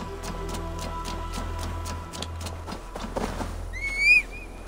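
A horse in Assassin's Creed Valhalla whinnies near the end with a rising, wavering call, preceded by rhythmic hoof clops over a steady low hum.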